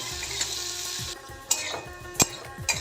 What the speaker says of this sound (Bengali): আলুগুলো এক মিনিট মতো মিডিয়াম হিটে ভেজে নেব